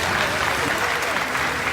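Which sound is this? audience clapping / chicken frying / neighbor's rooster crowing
audience clapping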